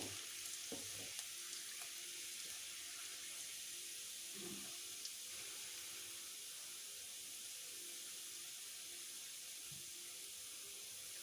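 Finely chopped garlic fries in a pan with a low, even hiss that runs throughout, plus a few faint clinks and stirs, quiet and near.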